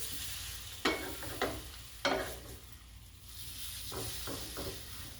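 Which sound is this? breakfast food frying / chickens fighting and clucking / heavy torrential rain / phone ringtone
breakfast food frying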